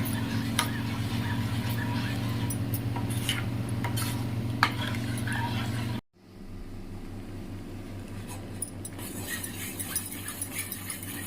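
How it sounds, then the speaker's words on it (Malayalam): A spoon stirring milk as it thickens in a pot for Pesaha paal, with soft scraping and light clinks over a steady hum that cuts out abruptly and then resumes more quietly. "അതിന് ശേഷം നല്ലോണം സ്പൂൺ കൊണ്ട് ഇങ്ങനെ ഇളക്കിക്കൊണ്ടിരിക്കണം"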